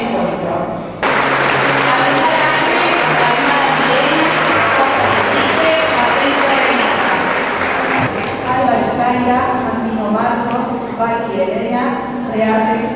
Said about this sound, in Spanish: Recibimos con un caluroso aplauso a la promoción 2023, protagonista de este encuentro.